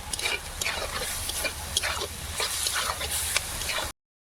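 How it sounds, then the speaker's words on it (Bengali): Spices with salt and turmeric are stir-fried in a pan, a steady close sizzle broken by repeated scraping strokes of a spatula, continuous for about four seconds before cutting to silence. "লবণ, হলুদ গুঁড়ো, ভালো করে মশলাটা কষিয়ে নেব।"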